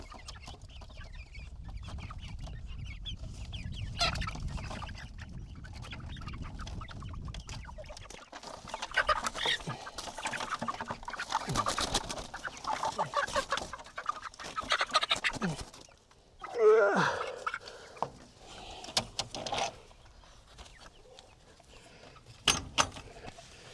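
Chickens cluck intermittently and faintly during a spring move into a new coop shared with goats, with scattered rustling and handling noises, a brief louder squawk near the middle, and quiet stretches between.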